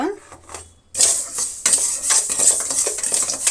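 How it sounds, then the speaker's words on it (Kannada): Rice and split moong dal are dry-roasted in a pan for payasam. After a quiet start, a spatula scrapes and rattles the grains against the metal in quick, close, continuous strokes. "ಅಕ್ಕಿ ಇಷ್ಟು ತೆಗೆದುಕೊಂಡಿದ್ದೀನಿ ಇದನ್ನು ಕೂಡ ನಾವು ಫ್ರೈ ಮಾಡ್ಕೊಳ್ಳೋಣ"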